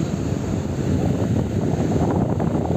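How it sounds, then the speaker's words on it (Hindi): River rushing beside the road near Seven Sisters Falls in Cherrapunji, a loud, constant broadband roar of flowing water with some wind buffeting, no talking. "नदी बह रहा है यहाँ पे"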